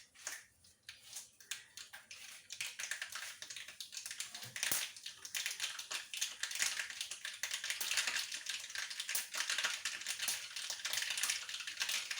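Mustard seeds crackle and pop in a hot pan, a dense continuous spatter of small sharp bursts that builds quickly and stays steady, close and fairly quiet.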